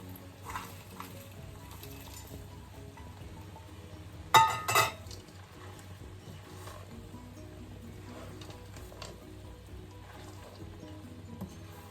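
Peas tipped into a frying pan of savoury rice, a soft continuous sizzle punctuated by a sharp metallic clatter and stirring, with quieter scrapes and clinks afterward.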